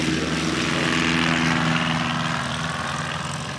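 Foster Carney's propeller aircraft flying at the Music City STOL competition, a loud, continuous engine and propeller drone holding steady and close, easing off slightly toward the end.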